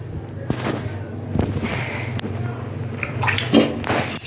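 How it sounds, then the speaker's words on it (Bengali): Water sloshes and splashes inside a metal wok, with occasional clanks and scrapes as it is swirled and rinsed, close and irregular. "কড়াইতে একটু জল দিয়ে ধুয়ে নিচ্ছি"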